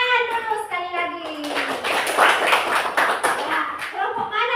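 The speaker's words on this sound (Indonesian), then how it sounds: "Ya, tepuk tangan dulu sekali lagi." A classroom of pupils claps together during a lesson, a dense burst of hand clapping that follows a moment of talk and carries on steadily for a few seconds.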